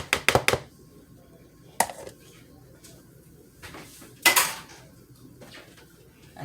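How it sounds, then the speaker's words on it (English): Dishes and cutlery gathered up in a home kitchen after making tuna fish: several sharp clinks and clatters at the start, another near the two-second mark and a loud clatter later, with quiet stretches between. "I'm going to get these dishes together"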